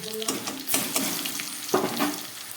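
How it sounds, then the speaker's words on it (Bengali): Onion with garlic paste frying in a pan: bursts of sizzling and scraping as the mixture is stirred, rising and falling in short strokes over a low steady hiss, with no talking. "খুব ভালো করে পেঁয়াজটা ভাজা হয়ে গেছে এবারে আমি দিয়ে দিচ্ছি এক চামচ বাটা রসুন"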